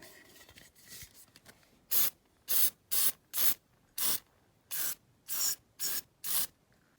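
A series of short silicone lubricant aerosol spray bursts onto diecast toy car wheels in a paint lid, about nine in a row at a steady rhythm, close and hissy, after some quieter handling noise.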